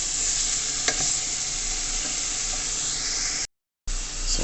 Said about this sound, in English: I'm just gonna saute this for about roughly 4 to 5 minutes